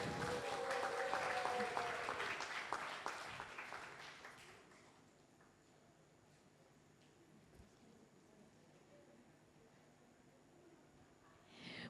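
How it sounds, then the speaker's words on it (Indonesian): Symposium audience applauding a speaker's introduction, fairly faint clapping for about four seconds that fades out, leaving a quiet room. "mari kita sambut dengan tepuk tangan yang meriah Kak Mega Nur."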